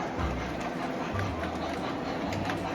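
A model train runs along its track with a steady mechanical whir and faint clicking, continuous and fairly close, with no talking.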